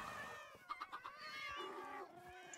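Minecraft cat meowing repeatedly in a drawn-out, wavering caterwaul, several short mews in quick succession followed by a longer sliding yowl, clear and close with no talk.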